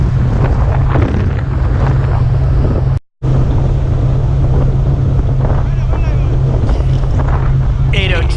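Osprey Shuttle Ferry under way off St George's, Grenada, a loud constant low engine drone with strong wind buffeting the microphone, steady throughout apart from a brief dropout.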